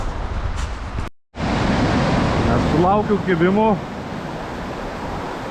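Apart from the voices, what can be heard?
sea waves breaking on the shore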